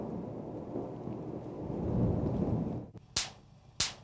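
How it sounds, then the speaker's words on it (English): Lightning crack and thunder: steady rumbling roar with a rain-like wash, then two sharp, loud cracks close together near the end. "Lightning is a dramatic natural force."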